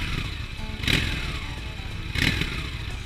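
A Honda VT 750 S cruiser motorcycle idling close by, a steady low rumble with two brief louder bursts from the exhaust, and no talking.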